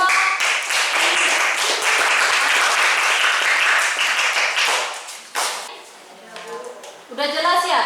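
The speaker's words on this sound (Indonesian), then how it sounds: "silakan duduk, tepuk tangan untuk kelompok Eni" Classroom audience applauding a student group, a dense burst of many hands clapping for about five seconds, then fading out as a teacher's voice speaks.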